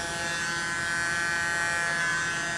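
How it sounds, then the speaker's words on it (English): A small air blower pushes paint across a pearl pour canvas with a Dutch pour through it, giving a steady, unbroken high whir at a constant level throughout, with no talking. "should I have got out my bigger blower, maybe?"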